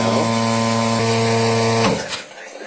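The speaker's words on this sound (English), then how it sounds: "There's the vacuum we're pulling on that vacuum chuck right" Close, steady mechanical hum with a buzzing tone from a vacuum pump pulling on a lathe vacuum chuck holding a bowl, which abruptly winds down and stops near the end.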